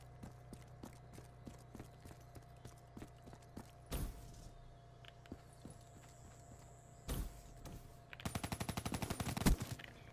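Repeated gunshots from Black Ops 3 multiplayer, mostly quiet regular cracks with a few louder bursts and a final rapid automatic volley near the end, with no speech.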